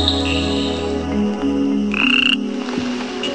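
An elegant torrent frog calling along a forest stream in India, a clear series of tonal croaks and chirps, close and loud, with no talk over it.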